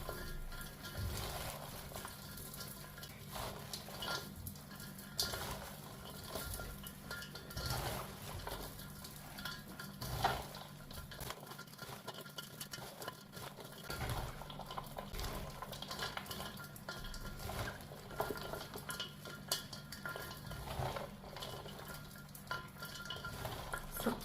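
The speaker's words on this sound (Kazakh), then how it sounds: "Бұны жайлап, сықпай араластырам." Shredded cabbage is mixed gently by hand with a heaped spoonful of salt for sauerkraut, a soft continuous rustling and crunching with occasional light knocks against the bowl, quiet and close.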